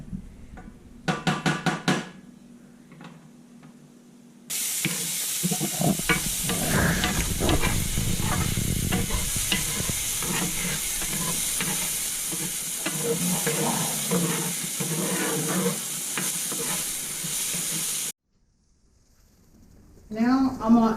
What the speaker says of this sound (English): this just take a few minutes to saute them, just to get the onions a little soft